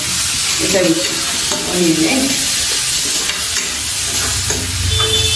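Onion and green chili frying in oil with garlic, a loud, close, constant sizzle with stirring, while someone speaks over it.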